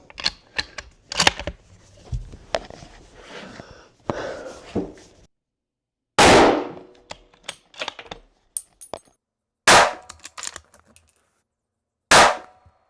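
Several loud, sharp rifle shots from a .35 Whelen Ruger Hawkeye African fired outdoors in midsummer heat, spaced seconds apart with near-silence between them, and clicks and handling noises before the first shot.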